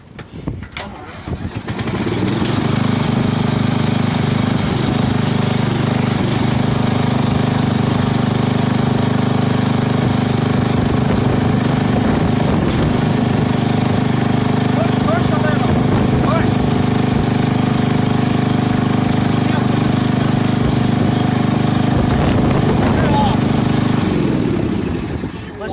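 A vehicle engine from the Oregon Trail video game runs steadily while driving through a river crossing, a loud continuous low drone with a buzzing rumble lasting about 25 seconds, with people talking over it.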